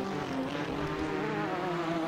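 A Corvette C8R LMGT race car engine in Assetto Corsa holds a steady, droning whine at sustained revs, moderately loud and unbroken, with no talk over it.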